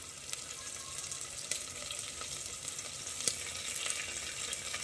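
Finely cut fenugreek leaves frying in a pan give a steady hiss and crackle, with sharp pops and occasional light scraping scattered throughout at close range, and no talking.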